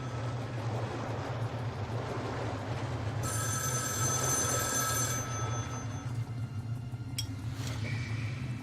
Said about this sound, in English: Why am I getting a phone call?